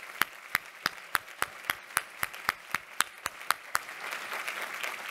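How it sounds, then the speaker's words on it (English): An audience at the 25th annual Women Helping Women event applauds the founders with a run of sharp, evenly spaced claps that give way to a softer, spread-out wash of applause at the end. "I think we should give them a round of applause for being here."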